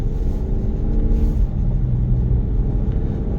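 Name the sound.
Lexus GX550 OverTrail+ exhaust drone while driving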